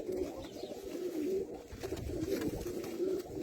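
A pigeon coos steadily and close by, low throaty rolling calls repeating over a soft background rustle.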